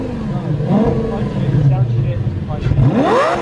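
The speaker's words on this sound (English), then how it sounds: "That V10 sounds clean. Here, go behind it. Give it some rev." A V10 Lamborghini sports car engine revs loudly up and down close by, its pitch rising sharply near the end, with voices talking over it.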